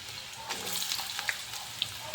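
Potatoes and onions cooking in oil reused from frying fulaura on a low gas flame: soft, steady sizzling with occasional sharp crackles and pops, close by.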